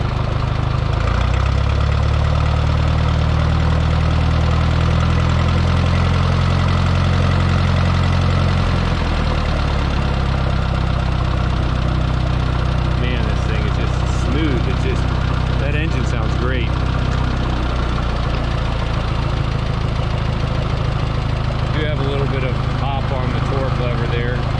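A Minneapolis Moline U302 tractor, propane-fuelled and freshly rebuilt, idles with a steady low engine rumble that stays loud throughout while a person talks over it.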